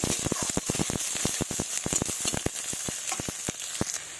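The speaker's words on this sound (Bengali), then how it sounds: "এবার একটু লাল লাল করে ভেজে নেব।" Chopped onions fry in mustard oil in a wok, sizzling steadily and close by, with a quick run of sharp ticks and pops from spattering or stirring.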